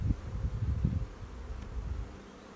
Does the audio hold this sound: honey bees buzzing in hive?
yes